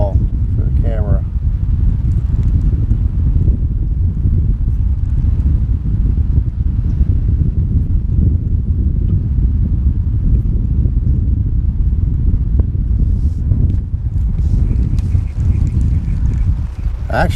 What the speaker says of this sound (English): I actually like the wind.